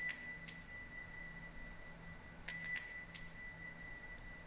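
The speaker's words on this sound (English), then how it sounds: "Judging by the way he's wrenching at that doorbell" An old-fashioned doorbell rung violently in a radio drama, two sharp bursts of bright ringing, each with a quick rattle, close and alone against a quiet background.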